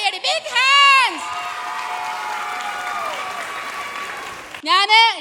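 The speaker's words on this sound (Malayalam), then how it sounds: "എല്ലാവർക്കും ഈ പ്രോഗ്രാം ഇഷ്ടപ്പെട്ടിട്ടുണ്ടെങ്കിൽ നല്ല അടിപൊളി ഒരു കൈയടി ബിഗ് ഹാൻഡ്സ്" A crowd applauds at the ninth anniversary show of a Calicut dance company, a steady wash of clapping between loud, drawn-out vocal whoops at the start and end.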